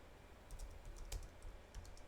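Quiet taps on a computer keyboard as a short web search is typed, a brief irregular run of keystrokes close by with no talking.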